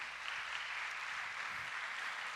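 Applause in a church during a Sunday morning sermon, a steady broadband wash of clapping from the congregation that runs evenly for a couple of seconds at moderate, somewhat distant level.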